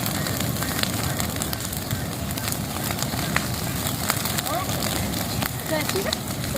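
A fire burning across a farm field: broad, continuous crackling roar with steady wind-like rush and occasional sharp pops, recorded outdoors close to the flames.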